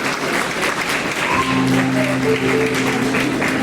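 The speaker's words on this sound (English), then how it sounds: "Please give these ladies a round of applause" Steady, dense applause fills a debutante ball hall for a group of debutante ladies, loud and continuous throughout, with faint tonal voices or cheers briefly rising within the clapping.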